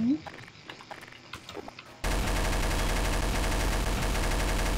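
Gunfire in Garry's Mod starts with scattered, fainter shots and noise, then becomes a sudden, continuous, loud burst of rapid fire that lasts to the end.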